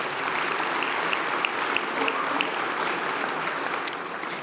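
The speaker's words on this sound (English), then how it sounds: "Let's give them all a round of applause." A large audience at a sustainability summit's morning plenary applauds its sponsors in a broad, even roar of clapping that holds steady throughout, with a few sharper claps standing out.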